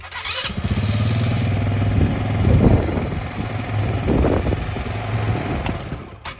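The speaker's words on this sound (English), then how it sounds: "Now just put it on the jump box, you crank right up." A 200cc four-wheeler engine is cranked on a jump box and runs, giving a loud, close, buzzy idle that rises and dips with a couple of throttle blips before cutting off near the end.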